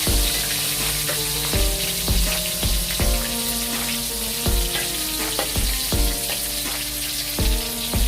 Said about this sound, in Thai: แล้วก็ทอด พยายามให้มันติดกัน